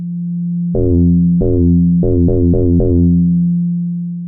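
A modular synthesizer sine oscillator with frequency modulation holds a steady low tone, struck by six sharp plucked, metallic-sounding notes in an uneven rhythm, each decaying quickly, loud and clean.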